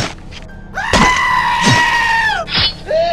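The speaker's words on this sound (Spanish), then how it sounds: "se escuchó un grito, y se supone que esa casa siempre está vacía" A scream from inside a house in GTA San Andreas: a loud, drawn-out shrill cry lasting over a second, followed by a shorter, sharper yelp near the end.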